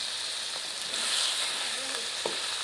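Ginger garlic paste and turmeric frying in oil for a dhaba-style chicken karahi make a steady close sizzle that swells briefly midway, with a couple of soft utensil taps and no clear speech.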